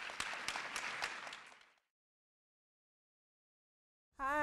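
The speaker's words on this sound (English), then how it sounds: "Let's give a big round of applause to Ms." An audience claps for Ms. Gardner, the secretary at Adrian Elementary School, at a PTSA Founder's Day event. The clapping is a brief, moderate round that fades out into silence, and then a voice starts to speak.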